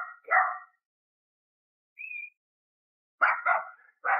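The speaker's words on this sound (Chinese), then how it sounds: "小狗" A small dog lets out a few short, high yips and barks, spaced apart with quiet gaps between them, fairly close on a cold, rainy night, with no talking.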